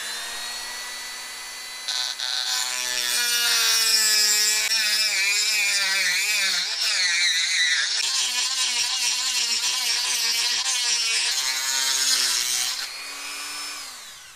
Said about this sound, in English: I'm going to go ahead and use my Dremel here and just work on that inside radius.